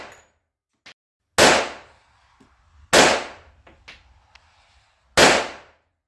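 A custom Colt 1911 pistol is fired at an outdoor range: three loud, sharp shots spaced a second or two apart, each with a short ringing decay, and small clinks between them.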